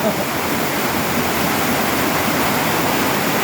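Rising floodwater rushes in a steady, loud broadband roar, like a waterfall, with no breaks across the whole stretch.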